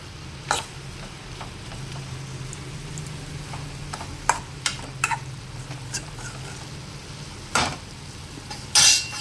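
Cucumber pieces frying in a pan while being stirred, with a steady low sizzle under scattered scraping clinks of a spoon against the pan and a few louder knocks near the end.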